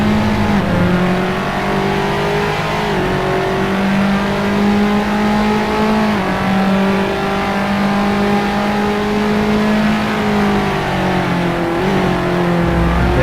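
Race car engines in a sim racing game at Imola, a 3 Series touring car round, droning loudly and continuously with rising and falling pitch through gear changes and corner exits.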